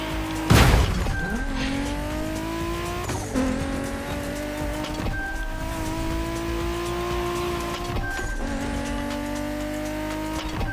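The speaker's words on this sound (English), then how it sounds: "We have prepared a classic for you from a very famous German brand, the BMW Z4 M40i." BMW Z4 M40i roadster in The Crew Motorfest, engine droning steadily with rising pitch sweeps through repeated gear changes, a sharp crash or impact near the start, and brief tire squeals, loud and close with no talk.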